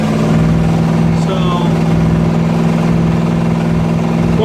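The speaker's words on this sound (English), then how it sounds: "it sounds to me like we do have a little bit of an exhaust leak" A 1969 Corvette 427 with a four-speed idles loudly and close up at its first start-up, with an exhaust leak suspected on the driver's side. It keeps a steady, rumbling idle throughout.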